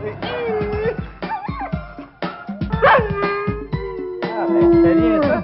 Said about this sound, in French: ces chiens-là, ils sont excités, ils ont hâte de partir braver le froid